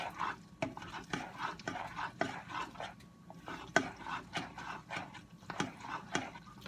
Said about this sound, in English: you're just going to stir that all up